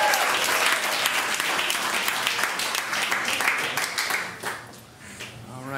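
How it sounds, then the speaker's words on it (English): A studio audience at a comedy game show applauds the contestants with dense, sustained clapping that stays loud for several seconds before thinning out near the end. "Cheer these guys on. They've done a great job."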